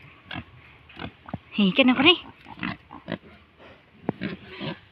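On a farm, pigs grunt and oink in short, close bursts that peak in the middle, mixed in with people talking.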